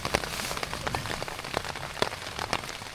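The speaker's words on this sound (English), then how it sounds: "hopefully the rain's only going to be around for a little while longer" Rain falls on surfaces outdoors during a downpour at a camp, a dense, steady patter of many drops with sharper individual hits, close and continuous.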